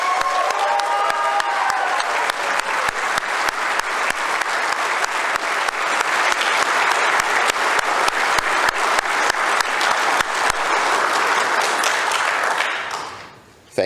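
A conference audience claps for event sponsors in sustained, dense applause that stays loud and even for about twelve seconds, then quickly dies away at the end.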